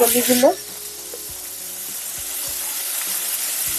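Steady sizzling of food with panch phoron spices frying in a hot karahi, a continuous crackling hiss after a brief clatter at the start.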